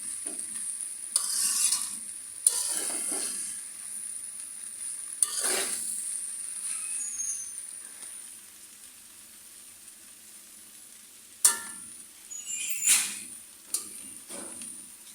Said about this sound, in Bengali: নাড়াচাড়া করে নামিয়ে ফেলব।